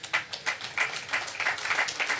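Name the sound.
applause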